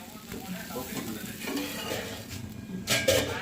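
Dosa batter cooks in oil on a pan with a quiet, close sizzle, broken by soft scraping of a spatula and a few light metallic clinks that grow louder toward the end.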